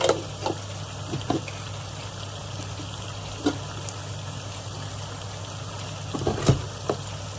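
Spices, including cumin powder, fry in a pot for Kashmiri lamb pulao, giving a soft continuous sizzle with occasional light clinks and stirring sounds.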